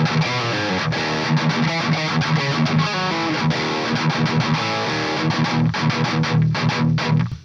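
Electric guitar through a hi-gain modded Marshall amp with its extra gain stage engaged: thick, heavily distorted chugging riffs with a strong low end, loud and continuous before cutting off at the end.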